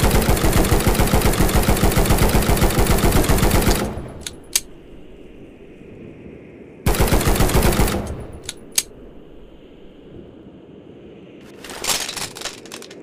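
A Heckler and Koch G36C rifle fires in the video game Gorebox in two loud sustained automatic bursts, each followed by mechanical clicks and clatter against quiet background.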